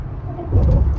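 Cars crossing the Golden Gate Bridge in California, heard from inside a vehicle as a deep, close road rumble that swells midway as traffic passes, with no talk.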